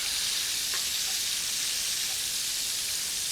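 Sliced leftover steak frying in a pan, a dense, even hiss of sizzling oil that runs steadily throughout, close up, with only faint stirring ticks and no voices.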